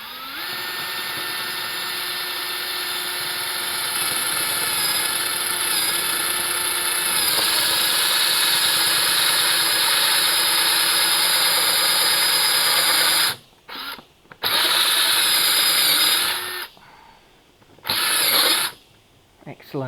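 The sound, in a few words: power drill drilling hole in plastic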